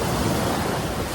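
Ocean surf rolling in at Jensen Beach, Florida: a steady, loud broadband wash of breaking waves, close by, with wind buffeting the microphone and no voices.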